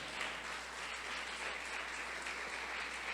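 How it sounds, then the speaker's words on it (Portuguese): A church congregation applauds during a sermon, a steady, soft wash of clapping from many hands that holds evenly throughout at a modest distance. "Aplaude ao Senhor por isso."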